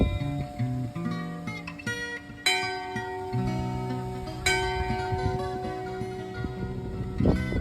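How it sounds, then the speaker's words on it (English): A church bell right next door rings out in strong, sustained tolls with long ringing overtones, several clear strikes layered over one another across the clip, close and loud with no talk. "a church right next door with a bell that rang every 15 minutes"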